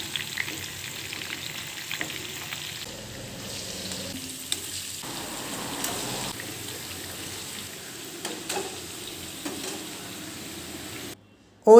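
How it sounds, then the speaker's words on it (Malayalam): Quail pieces fry in a shallow layer of oil in a pan, giving a steady close sizzle and crackle throughout, with a few brief spatters and light stirring clinks and no one speaking. "ഇപ്പോൾ ഒരു സൈഡ് നന്നായിട്ട് ഫ്രൈ ആയി വന്നിട്ടുണ്ട്. ഇനി നമുക്ക് തിരിച്ചിട്ട് കൊടുത്ത് മറു സൈഡും കൂടി ഒന്ന് ഫ്രൈ ആയിട്ടെടുക്കാം."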